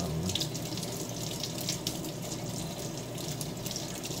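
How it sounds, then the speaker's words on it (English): Tap water running from a faucet onto tie-dyed cotton fabric being soaked: a steady, close, continuous rushing splash with no pauses and no talk. "I'm just going to do this one through under the faucet"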